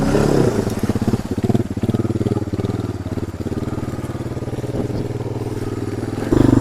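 Four-wheeler ATV engine idling steadily with its exhaust submerged underwater and the motor about halfway under at a boat ramp, a continuous close, low chugging rumble with a slight bubbling flutter and a brief louder burst at the end.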